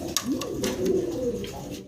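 Pigeons of various breeds and colours coo inside a pigeon loft, a close, soft, throaty coo rolling continuously for a couple of seconds.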